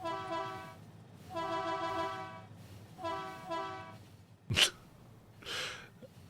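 Train horns from the honk mod in the video game Factorio: several distinct tonal honks in uneven bursts, separated by short gaps, with a sharp noisy burst after them and a softer hiss at the end.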